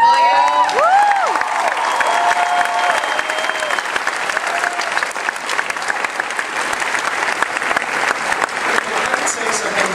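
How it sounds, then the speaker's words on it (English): A Comic-Con audience at a Warehouse 13 panel bursts into loud, sustained applause with scattered cheers and a whoop near the start, the clapping dense and continuous throughout. "Give them a huge round of applause, will you?"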